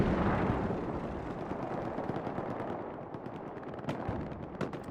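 Sustained machine-gun fire and heavy HE explosions from the competitive Hell Let Loose WWII shooter, dense and loud throughout with rapid bursts and booming impacts layered together, no talking.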